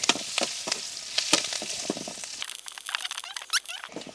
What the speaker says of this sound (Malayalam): ഇനി ഇതിൻ്റെ കൂടെ കുറച്ച് വറ്റൽ മുളക് രണ്ടായിട്ട് മുറിച്ചത് ഇട്ട് കൊടുക്കാം ഇനി അതിൻ്റെ കൂടെ കുറച്ച് കരിയാപ്പലയും കൂടി ഇട്ട് കൊടുക്കുക ഇതൊക്കെ ഒന്ന് മൂത്ത് വരട്ടെ